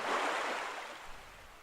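Ocean waves wash as ambient surf in the video game Tropico 4, a soft continuous rushing swell that peaks early and slowly fades, with no talking.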